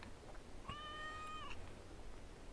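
A cat meows in the video game Assassin's Creed Valhalla, a single soft rising-and-falling meow under a second long, faint against a steady ambient background.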